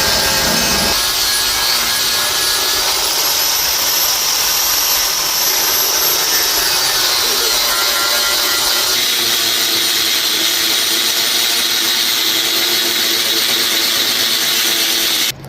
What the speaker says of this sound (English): now I'm going to take this wire wheel and remove the paint all around that line